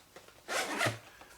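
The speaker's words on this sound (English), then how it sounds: "Everything with YKK zippers." A YKK zipper on the side pocket of a Maxpedition compact range bag is pulled once in a quick, close, soft rasping stroke lasting under a second.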